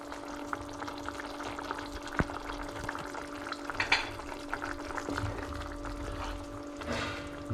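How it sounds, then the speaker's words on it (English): Water hisses and sizzles into a frying curry base of ginger and garlic paste, dhania powder and turmeric for a sausage curry; a steady close sizzle runs throughout with a few louder bubbling splutters. "So I add a bit of water."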